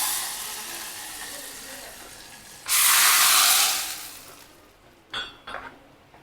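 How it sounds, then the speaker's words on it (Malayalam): Mustard seeds crackling and spluttering in hot oil in a home kitchen, tempering an Onam dish: steady close sizzling hiss that surges loudly for about a second, then fades with a few sharp pops near the end. "കടുക് നന്നായി പൊട്ടി ഓഫ് ചെയ്ത് നമുക്കിതിലേക്ക്"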